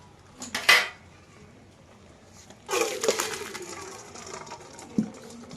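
Boiled banana flower is poured out of a pot in a Sundarban village kitchen: a splashing rush of water and clattering metal, then a longer pour with scraping, ending in a single clink of the pot.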